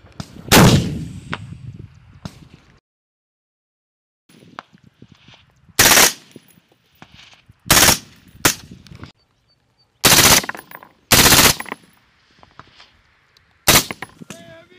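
Machine gun fire during U.S. Marines training, loud close bursts that come in several separate volleys with short quiet gaps between them, plus a few faint shouted voices.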